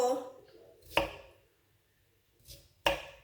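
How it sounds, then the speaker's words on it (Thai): Knife chops potatoes on a cutting board, a few sharp, close knocks spaced unevenly, with a brief stretch of quiet between them. "หั่นอย่างนี้นะเพื่อน"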